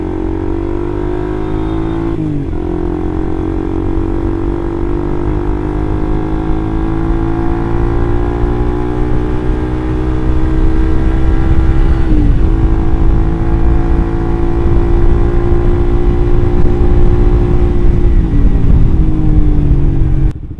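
A Suzuki GSX R150 motorcycle fitted with an R9 Mugello exhaust idling, a loud, steady, throaty drone heard close up, with a few brief dips and small shifts in engine pitch.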